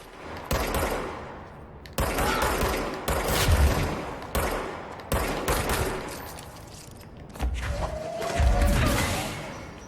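Gunfire from the action video game Control: repeated bursts of rapid shots with heavy thumps between short pauses, loud and close, with no talking over it.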